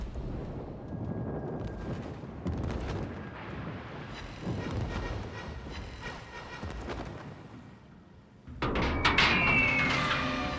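Rocket fire volley from a warship in World of Warships, a rolling series of heavy booming impacts and rumbling blasts over about ten seconds, ending in a sharper, louder burst of crackling explosions.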